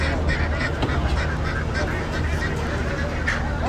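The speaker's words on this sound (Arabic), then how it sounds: "الفراخ والبط والحمام والحاجات دي كلها اهي." Ducks and other local fowl at a poultry market, loud quacking and honking crowding together up close over a constant busy background, with people talking amid the birds.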